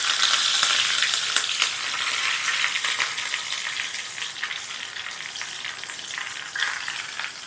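Curry leaves spattering in hot oil with popped mustard seeds, a bright crackling sizzle with sharp pops that is loud at first and gradually settles, close up with no voices.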